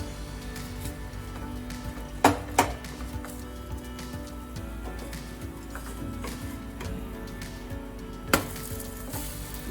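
Oil sizzles steadily in a pan as a flatbread of soaked rice and fenugreek fries, with a few sharp clicks of utensils against the pan.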